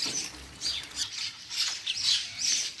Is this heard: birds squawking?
yes